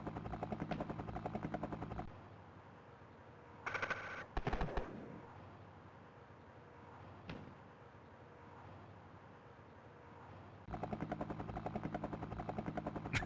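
Gunfire from the Amiga video game Major Motion: a few short, sharp bursts separated by quiet stretches, set between longer runs of a steady, droning engine-like sound, all fairly faint.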